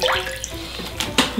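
Half a litre of water splashes into a cooking pot for tteokbokki, a brief close pouring and splashing sound with a few distinct drips.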